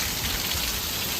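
Heavy rain pours down during a stormy spell, a close, loud and steady hiss of drops striking surfaces with no pause.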